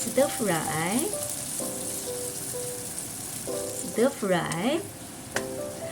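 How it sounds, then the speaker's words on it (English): Cherry tomatoes stir-fried with garlic in a pan give a steady soft sizzle, with a few short scraping stirs of the spatula standing out in two bursts. "then add in the cherry tomatoes and stir fry"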